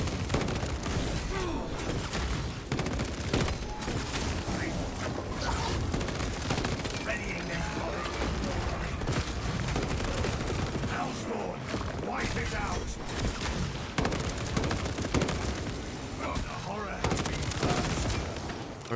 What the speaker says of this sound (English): Look at that hip fire.